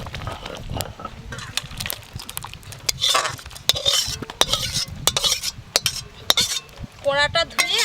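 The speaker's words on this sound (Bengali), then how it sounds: "এবার ঢেলে দেব।" Boiled dal and rice poured from a pot, giving wet sloshing and pouring sounds mixed with clinks of utensils against cookware, close and moderately loud, with a voice speaking briefly over part of it.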